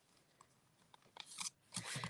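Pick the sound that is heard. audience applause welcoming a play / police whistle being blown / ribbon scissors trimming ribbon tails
ribbon scissors trimming ribbon tails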